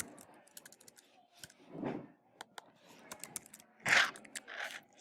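Keys tapped on a computer keyboard while entering items into a budget expense chart, a few scattered clicks and short bursts, close and fairly quiet, with some louder thumps.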